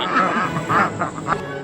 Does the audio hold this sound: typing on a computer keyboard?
no